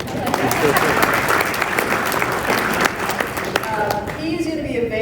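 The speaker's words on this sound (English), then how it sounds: "you can clap for him, that's good." Audience applause at a women's basketball conference session, a sustained wash of many hands clapping for several seconds before tapering off as a voice begins.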